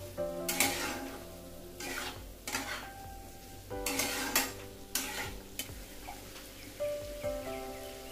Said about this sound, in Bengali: মশলাটা প্রায় কষানো হয়ে গেছে